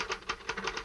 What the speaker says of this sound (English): I'm typing on the back of it